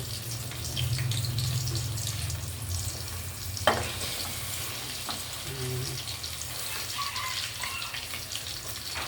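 Thin fish frying in a pan, a moderate continuous sizzle with a low hum underneath, a sharp utensil knock midway and light kitchen clatter, running water faintly mixed in.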